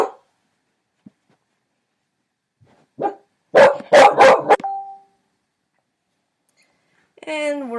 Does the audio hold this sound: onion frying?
no